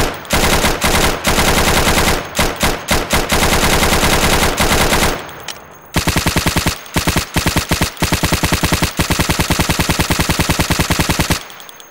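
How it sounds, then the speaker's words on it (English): Negev machine gun from the game Urban Terror fires in long, rapid, loud bursts that break off briefly before resuming with rhythmic clusters of shots, close and alone. "The Negev sounds are also unfinished."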